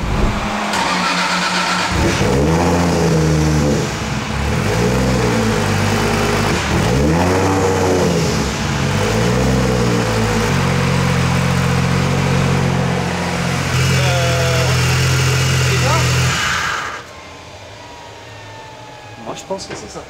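A BMW E46 fitted with a 2JZ engine and antilag is revved hard in several rising and falling blips, then held at a steady high pitch before cutting off abruptly into quiet.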